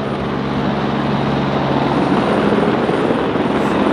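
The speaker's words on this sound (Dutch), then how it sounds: "Ja, kijk, een helikopter dat ook." A helicopter flies overhead at a bike race, a loud, steady rotor and engine drone that fills the whole stretch with no talk.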